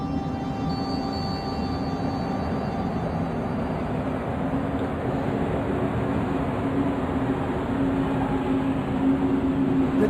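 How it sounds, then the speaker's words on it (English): Steady low rumble and rolling hum of a train in the adventure game Broken Sword 2, continuous and even throughout, with no talking. "The train was my ride out of there."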